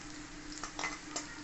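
Dry fruits fry in hot ghee in a pan for lachcha semai, a soft steady sizzle with a couple of faint scraping stirs, quiet and close.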